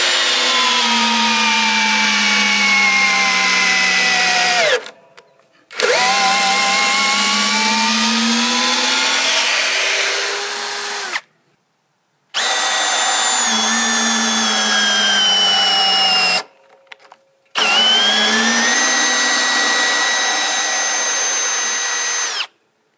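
12V Parkside Performance cordless drill driving a 20 cm screw of 13 mm diameter, loud close motor whine that drops in pitch under load, in four long bursts separated by brief silent pauses.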